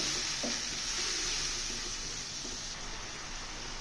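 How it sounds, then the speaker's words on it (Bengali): Chili and turmeric powder paste fries in a pan for a prawn curry, giving a steady, soft sizzling hiss with a few faint stirring scrapes, close and unbroken, with no talking. "মরিচের গুঁড়া দিয়েছি আমি হাফ চামচের মতো আর হলুদের গুঁড়া এক চামচ মশলাটাকে ভালো করে আমি কষিয়ে নেব"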